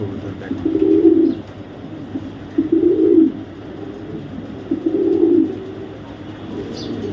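Racing pigeons, a 2023 BRPL-ringed pair, coo close by in three low, throaty bursts spaced about two seconds apart over a steady background hum.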